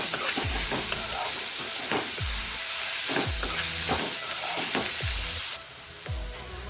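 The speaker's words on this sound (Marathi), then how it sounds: "मी इथे कढईमध्ये तेल टाकून घेते त्यानंतर आपण त्यामध्ये दोन कांदे चिरून भाजून घेऊया" Onions frying in hot oil in a kadhai give a steady close sizzle, with regular low knocks of a spoon stirring against the pan about once a second.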